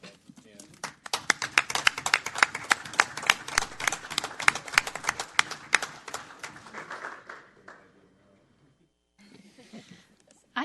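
Applause at a city council meeting, a room of people clapping steadily for several seconds before fading out, with voices heard briefly afterward.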